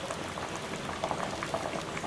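Fig sweet simmers in syrup with a soft, continuous bubbling and popping, quiet and close, with no voices.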